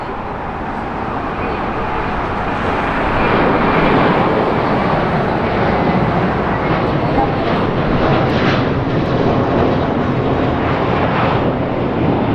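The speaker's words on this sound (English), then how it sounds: "the Korean Airways plane is come and taxied around" A Korean Air jet taxis at Los Angeles International Airport, a broad, loud engine roar and whine that swells slightly midway, heard from a spotting position with wind noise but no talk.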